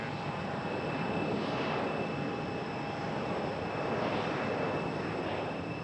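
Delta and American airliners at Raleigh-Durham International Airport, a steady, fairly faint jet rumble heard from a distance with a constant whine on top, unbroken and without talk.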